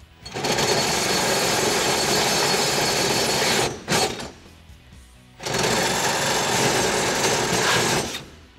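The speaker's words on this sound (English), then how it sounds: "lastly we'll finish with the 1/2-inch drill bit" Two long, loud bursts of a half-inch drill bit grinding through material, separated by a brief pause, while fitting a rear chassis brace on a 2005-2014 Mustang coupe, close up with no voices.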